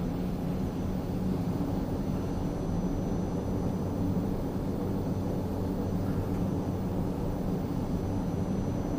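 Steady turboprop engine drone of an ATR72-600 airliner taxiing toward the runway end in a flight simulator, a constant even hum with no talking.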